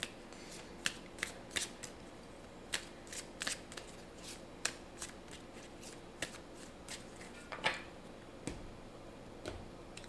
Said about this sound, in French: Je vais juste tirer une carte d'ici.